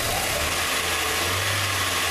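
Ford Versailles 1.8 AP engine idling with a slight misfire, a steady low rumble with faint uneven stumbles, heard close and alone with a broad hiss over it.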